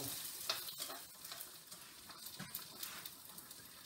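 Sausages being stirred in a pan with a soft sizzle, quiet scraping and gentle frying crackle, faint and close with a few brief clinks.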